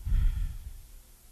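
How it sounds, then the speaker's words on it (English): A slow, whispery exhale through the nose, breathy and close, fading out gradually over about a second, with no talk. "Can you hear what I'm doing with on the exhale? I'm kind of whispering a little bit to slow the exhale down."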